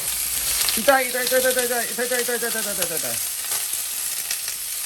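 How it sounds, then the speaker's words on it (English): Steak frying in a pan alongside vegetables gives a steady, close sizzling hiss throughout, with a brief wavering squeal rising over it for a couple of seconds in the middle. "But, yeah, here goes the steak."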